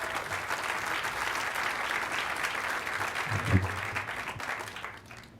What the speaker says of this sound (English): We can give Michelle a round of applause.